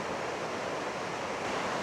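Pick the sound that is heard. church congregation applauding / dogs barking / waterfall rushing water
waterfall rushing water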